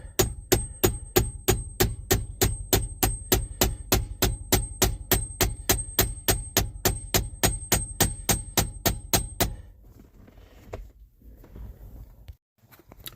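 Hammer tapping a pin through a gear shifter arm, about thirty sharp, evenly spaced metallic strikes in a steady rhythm, close and loud, then stopping into quiet handling noise.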